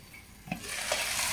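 Ivy gourd pepper fry being stirred in a pan, a soft scrape of the spatula followed by a steady, hissing sizzle that grows louder as the vegetables are turned, with no talking.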